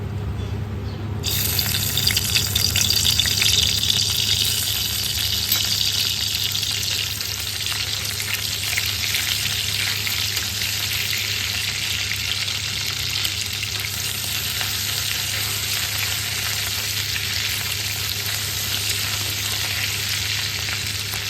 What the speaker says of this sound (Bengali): একটি কড়াইয়ে পরিমাণ মতো তেল দিয়ে তাতে আগের থেকে ধুয়ে রাখা চেপাগুলো দিয়ে দিলাম